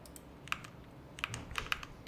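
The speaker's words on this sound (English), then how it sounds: "I'm obsessed with how your keyboard sounds." Mechanical keyboard keys clack in quick, uneven bursts, close and crisp, with no talking.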